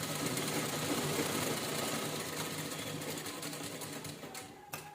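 An electric sewing machine stitches a two-colour purse in a continuous fast whir that runs nearly the whole time, then thins out near the end with a small clack.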